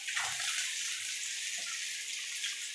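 Sliced onions go into hot oil in a pan for a chicken gravy, giving a steady, bright sizzle that hisses evenly throughout.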